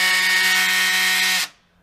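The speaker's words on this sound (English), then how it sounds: "Get ye old trusty drill driver, combi drill" Combi drill driver driving a hammer fitting, a loud steady high-pitched motor whine that stops abruptly after about one and a half seconds.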